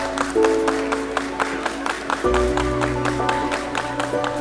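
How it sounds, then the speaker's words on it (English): Scattered clapping at a management institute convocation ceremony, a steady patter of hands over sustained tonal music, moderately loud and continuous. "Round of applause,"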